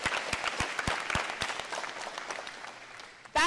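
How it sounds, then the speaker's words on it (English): Small audience applauding a young man at a 3-on-3 court event: sparse, rhythmic claps, quite faint and thinning out, followed by a brief burst of voice at the end. "we're going to give him a clap because he did it"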